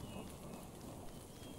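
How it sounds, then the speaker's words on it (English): Steady rain hiss with a low rumbling thunder undertone in the Frogsong game, a continuous faint wash with no talking. "Why am I out and about in the rain?"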